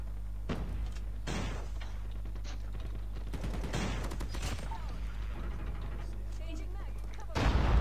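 Gunfire in the mobile shooter game Call of Duty Mobile, with repeated sharp shots and bursts over a steady low engine-like hum, ending in a louder blast; a player talks over parts of it.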